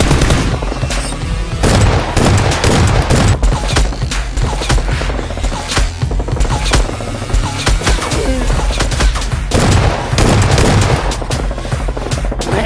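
Rapid machine-gun bursts and single gunshots crack loudly and continuously through a battle in an animated Spider-Man superhero cartoon, with dense booms and mechanical clatter throughout.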